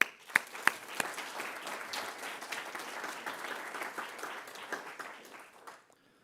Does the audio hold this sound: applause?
yes